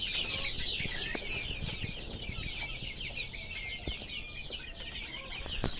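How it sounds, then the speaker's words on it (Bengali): Chickens and young chicks on a small farm cluck in a loose, continuous chatter, close and steady, under a bright background hiss. "আর আপনার এখানেও কিছু মুরগির বাচ্চা আছে,"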